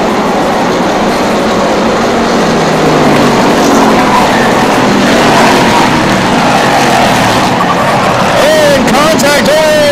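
Race cars roar around a speedway as the number 95 car makes contact and spins in turn four; a dense, continuous engine roar with tire noise fills the whole stretch, and faint chirping squeals come near the end.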